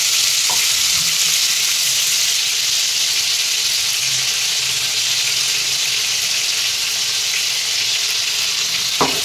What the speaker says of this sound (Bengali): মাংসটা আমি এপিট ওপিট 5 মিনিট মতন ভেজে নিয়েছিলাম। এবার আমি এই বেটে রাখা মশলাটা দিয়ে দেবো।